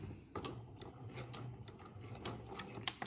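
A sewing machine runs a short back stitch along a plain seam beside the folded edge of bias tape, giving a quiet, steady mechanical whir with faint clicking, alone and fairly close.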